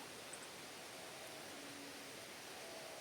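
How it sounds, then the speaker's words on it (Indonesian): Heavy rain falling in a Hokkaido forest, a steady hiss of dense rainfall with no breaks, quiet and even throughout. "Ini hari ini hujannya makin deras saja."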